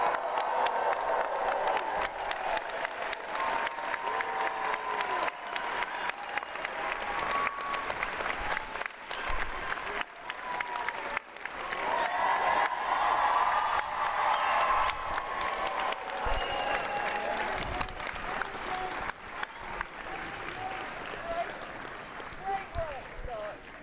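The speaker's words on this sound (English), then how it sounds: "can I ask you to join me in a big round of applause?" Sustained audience applause for graduates at a business school graduation ceremony, a dense, steady wash of clapping from a large crowd lasting the whole time, with faint cheers and murmurs mixed in.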